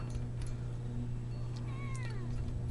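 Somewhere in a guitar workshop a cat gives a couple of faint, rising meows, heard softly over a low steady hum and room noise.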